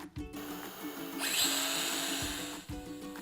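A cordless Dremel Ultra Saw cuts plywood freehand along a pencil line, a close, high whining motor that rises as the blade bites into the wood, then drops back near the end.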